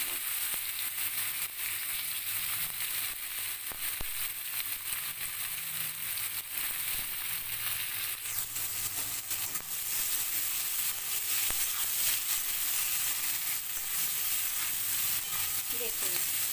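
Onions frying in a pan for a fish-head dish, a dense continuous hiss of sizzling oil with some stirring scrapes, steady and fairly loud throughout.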